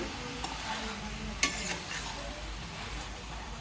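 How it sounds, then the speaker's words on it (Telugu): Goat liver with salt and turmeric frying in a pan, a soft steady sizzle with occasional spatula scrapes and one sharp clink, close and fairly quiet, with no voices. "చక్కగా అయితే కలిపేసుకుంటున్నా ఇదైతే చక్కగా మగ్గి ఫ్రై అవనివ్వాలి"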